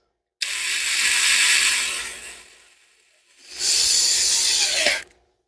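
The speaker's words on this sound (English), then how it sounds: "Let's see if we can screw it right into the metal portion of this." A drywall screw is driven into the metal of a crank seal on a Yamaha IT175K, making two loud, close bursts of grinding, rasping noise, each lasting a couple of seconds with a short pause between.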